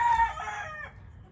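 A gamefowl rooster crows once, the harmonic call loud and near for about a second before trailing off, with no voices around it.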